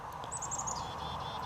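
Black-capped chickadee parents call in the background with a short series of thin, high chirps over a steady low hum, faint and somewhat distant.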